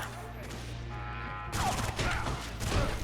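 Gunfire in the shooter game Dead to Rights Retribution comes as a dense, rapid burst of shots over a low engine-like hum, growing louder and more clustered in the second half, with no talk.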